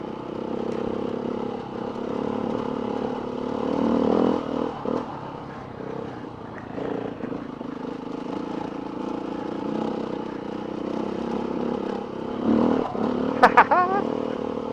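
A Beta 390 RR dirt bike rides over flinty stones on a green lane, its engine droning steadily under clattering and scraping from the tyres on loose rock, with a sharp metallic clink near the end.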